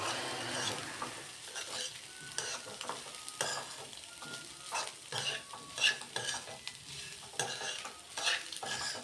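Pepper powder is stirred into a mixture in a pan, soft frying sizzle running beneath repeated close scrapes and knocks of a spoon at an uneven rhythm, nobody speaking.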